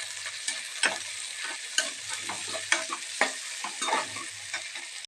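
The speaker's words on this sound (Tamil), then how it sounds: "நம்ம நல்லா ஃப்ரை பண்ணிக்கலாங்க" Green chillies and mint fry in hot oil in a pan for a baby corn biryani. There is a continuous close sizzle with repeated scraping and clinking stirs of a spoon, and no voices.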